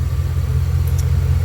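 Second-generation Dodge Ram truck engine running steadily after a radiator install, a close, loud, low rumbling drone with an even pulsing throb and no talk over it.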